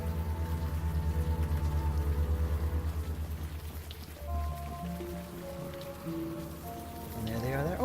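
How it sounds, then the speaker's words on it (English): Rain pattering on the ground in the rainy Chinatown scene of the adventure game Unavowed, a steady soft hiss under layered synth music, with a brief shift midway and no voices. "Raindrops on the ground. Yeah, look at that."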